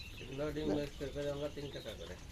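Repeated soft, throaty quail calls in short bursts, close by on a quail egg farm, with a low background hum.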